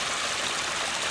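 A small backyard pond in an Arizona garden trickles steadily, giving a soft, continuous wash of running water close by with no voices.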